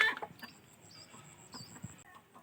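A domestic hen and rooster clucking close by, with a quick burst at the start and then scattered soft clucks and calls.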